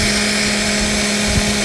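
A power drill boring a hole for a wiper set screw on a 1964 Studebaker Avanti, a loud steady motor whine that runs throughout the short stretch without talk.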